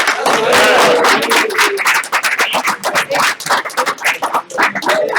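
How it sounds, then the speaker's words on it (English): A small crowd of reporters and guests clapping at a boxing press conference, loud and close, starting as a dense burst and thinning into scattered individual claps, with voices calling out over it. "Everybody clap."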